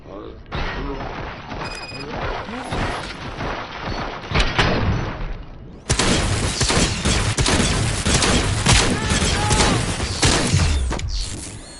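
Gunfire and heavy combat noise from the video game RoboCop: Rogue City, dense and loud throughout, with bursts of shots and impacts that grow fuller in the second half while a voice speaks over the action.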